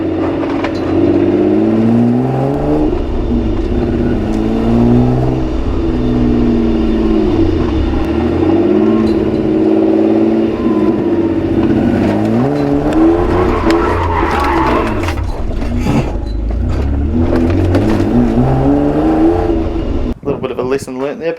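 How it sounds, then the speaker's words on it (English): A BMW-engined Toyota Corolla drift car is driven hard around a roundabout with clutch kicks, engine revs rising and falling in loud repeated surges with tire squeal, heard from inside the car. "Here's a quick clip of me kicking the clutch around a roundabout"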